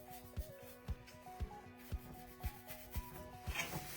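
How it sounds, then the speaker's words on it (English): Wax brushed onto a wooden Christmas tray with rhythmic scrubbing strokes, about two per second, close and fairly quiet with no voices. "Brush it on, wipe it off"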